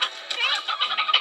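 Chickens clucking in the video game Slime Rancher, a short run of close, busy clucks and squawks repeating in quick uneven bursts.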